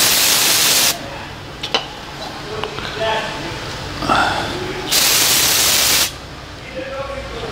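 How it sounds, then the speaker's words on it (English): Brake cleaner sprays in two loud, steady aerosol bursts, each about a second long, onto a front brake caliper bracket from a Mercedes-Benz GLK350 during a brake pad and rotor job. Quieter handling noises fill the gap between the bursts. "I'm gonna spray some brake cleaner here."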